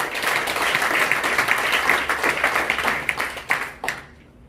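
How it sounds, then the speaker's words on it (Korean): Vigorous audience applause opens a lecture forum, with a thick burst of clapping that tapers into a few scattered claps before stopping. "지금부터 본격적으로 제1회 문수포럼 행사를 힘찬 박수로 시작하겠습니다."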